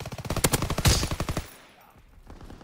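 A PPSh submachine gun fires in Call of Duty: WWII as a rapid, loud burst of shots lasting about a second, followed by scattered quieter gunfire in the distance.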